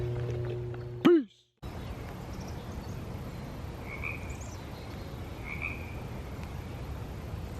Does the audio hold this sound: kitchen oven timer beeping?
no